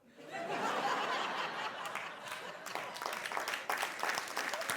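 Audience applause at a Trianon event in Bordeaux, a dense wash of clapping that swells quickly and holds steady, mixed with scattered chuckles and laughter from the crowd.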